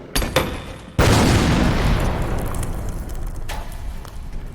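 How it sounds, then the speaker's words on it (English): Grenades explode in a Warhammer 40,000 battle: a couple of sharp cracks, then a loud, close boom whose rumbling roar and debris wash hold and slowly fade over several seconds. "Soldiers, throw your grenades."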